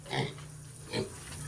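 Pigs jostling over feed on a small pig farm, with two bursts of snuffling, grunting noise about a second apart over a steady low farm hum; the sow is pregnant and was fed soft food.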